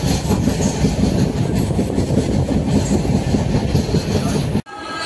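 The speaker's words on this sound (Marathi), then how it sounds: "ट्रेन पण निघाले बघा" A Jan Shatabdi passenger train from Panvel to Kudal rolls along with loud, steady rumbling and rhythmic wheel clatter, heard close up and alone until it cuts off abruptly near the end.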